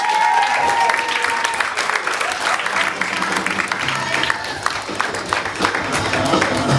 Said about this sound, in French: on continue, on applaudit.